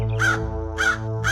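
A crow caws three times at an even spacing, loud, close and harsh, over a steady low tonal hum and with no voices.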